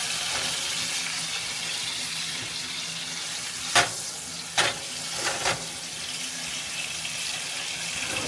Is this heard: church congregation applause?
no